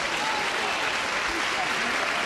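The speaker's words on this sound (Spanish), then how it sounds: "Los primeros aplausos" Crowd applause breaks out for the Esperanza Macarena procession in Seville, a steady wash of many hands clapping with scattered shouts and voices mixed in throughout.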